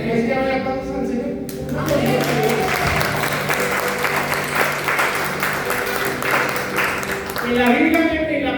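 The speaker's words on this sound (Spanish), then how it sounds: "¿No es que no le aplausos al Señor?" A church congregation claps loudly and continuously during a sermon, with a preacher's voice heard just before and after the applause.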